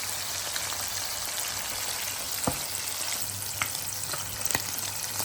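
Sardines (keeri meen) frying in oil in a pan give a steady, close crackling sizzle that holds throughout, with a few sharper pops and spatters standing out near the end.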